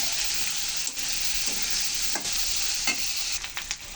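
Green chilies fry in fish oil with a steady, bright sizzle throughout, broken by a few soft stirring scrapes, heard close and without talk.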